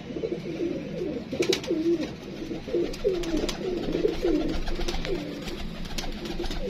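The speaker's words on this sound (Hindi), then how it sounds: "ये देखें माशाल्लाह कलरदार कबूतर रंगीन कबूतर है" Colourful pigeons coo in a steady series of soft, rolling calls over a constant background hiss, several birds close by.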